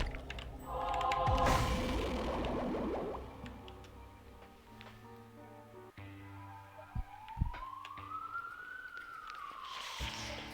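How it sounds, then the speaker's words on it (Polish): A synthetic siren in The Binding of Isaac: Afterbirth+ rises and falls in a single sweeping wail, mixed with scattered clicks and game-like effects; fairly faint. "syreny u mnie się włączyły jakby coś"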